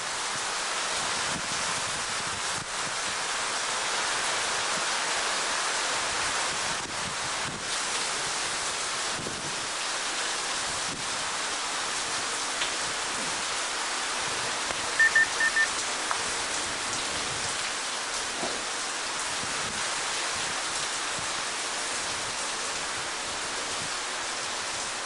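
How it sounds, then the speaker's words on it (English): Heavy rain pours steadily throughout a December thunderstorm, a dense, even hiss of drops on surfaces with no clear thunder, plus a brief louder patch partway through. "We're going to get over an inch of rain out of just this one storm."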